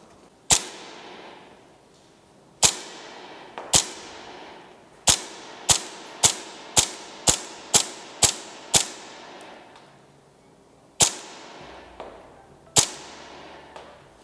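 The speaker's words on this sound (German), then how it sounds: "Wir schießen mit einer Gaswaffe auf 42 Meter." Shots from a Tokyo Marui Hi-Capa 5.1 gas airsoft pistol, a dozen sharp cracks heard close up, first spaced out, then a quick run of evenly paced shots, then a few more after a pause.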